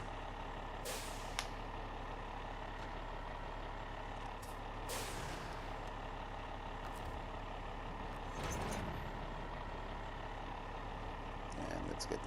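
A heavy truck engine drones steadily in the SnowRunner video game, with a few brief hissing bursts like air brakes over the continuous low rumble.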